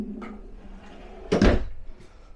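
A drawer in the bathroom vanity of a 2022 Solitude S-Class 2930RL fifth-wheel RV slides open with a soft scrape, ending in one close, sharp wooden knock.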